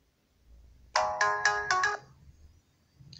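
A phone ringtone set off by the find-device function of an X-TIME XT-SW56 smartwatch plays a short burst of five quick melodic tones, then stops, leaving faint room noise.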